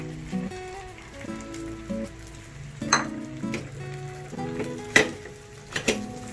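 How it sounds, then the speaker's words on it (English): An egg fries in a separate pan with a continuous light crackle and pop, while soft taps and clinks of a utensil and background tones sound intermittently over the sizzle. "Just fry an egg on a separate pan."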